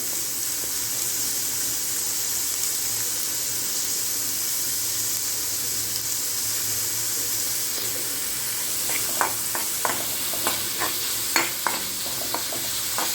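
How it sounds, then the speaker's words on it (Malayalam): Garlic cloves and an onion sauté in a pan with a steady broad sizzle, later broken by a run of scraping, clicking stirs near the end, with no talking. "ഒരു 8 അല്ലി വെളുത്തുള്ളി ഉള്ളത്, അതുപോലെ ഒരു ഉള്ളി, നല്ലതുപോലെ വഴറ്റിയെടുക്കണം"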